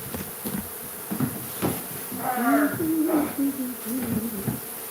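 Bees buzzing during a hive removal from ducts, with a shop vac sucking them up; a wavering buzzy drone rises and falls over several seconds amid scattered knocks and handling noise.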